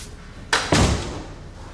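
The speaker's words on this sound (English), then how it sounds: "Did you shut the door?" A door slams shut indoors with two close, loud thuds, the second heavier, followed by a short fading rumble and no talk over it.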